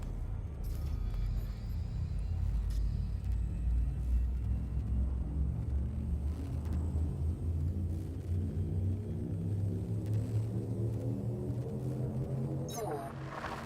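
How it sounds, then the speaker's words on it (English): A starship's frameshift drive in Elite Dangerous charges with a deep rumbling hum that rises steadily in pitch over many seconds, ending with a sharp burst as it jumps. "Frameshift drive charging."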